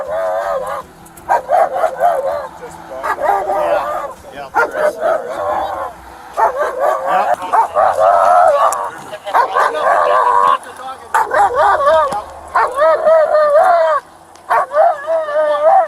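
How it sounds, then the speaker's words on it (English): Dog barks, yips and whimpers persistently from inside a car at the end of a high-speed police chase and crash, loud and close, with officers talking over the repeated outbursts. "Just keep the dog in there if you can."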